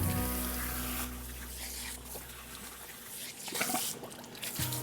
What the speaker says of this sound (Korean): 이 물소리가 정말 좋아요.